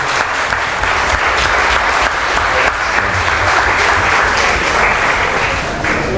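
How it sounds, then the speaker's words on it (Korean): Sustained applause from a large congregation at a church convention in Havana, Cuba, a dense, steady roar of clapping that fills the whole stretch without pause. "박수로 하나님께 영광을"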